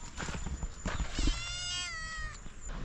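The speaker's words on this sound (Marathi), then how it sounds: "एक इकडे मांजर पण आहे." A single drawn-out cat meow, fairly close, following some muffled background rustling and thumps.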